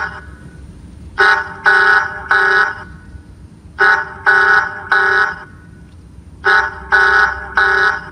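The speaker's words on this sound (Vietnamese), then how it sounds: "Nó đuổi nhanh này trong vòng 1 phút là nó sẽ báo, nó kêu tít tít tít tít như vậy anh em nha" A cheap Wi-Fi anti-theft security camera sounds its quick-deter alarm, loud harsh electronic beeps in three groups of three with short pauses between, close and alone.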